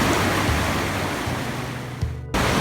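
River water rushing steadily near the Bidadari waterfall in Aceh, a continuous broadband wash that fills the scene, close and loud, with a brief dropout before it resumes.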